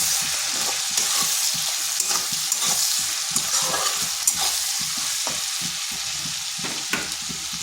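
Ginger garlic paste fries in a pan after the onions, a steady bright sizzle broken by soft scraping stirs, close and continuous with no talking.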